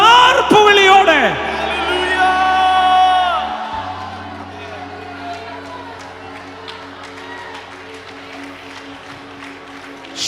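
A church congregation shouts together in a loud burst of mixed voices and whoops that peaks early, then settles into a sustained crowd roar that slowly fades.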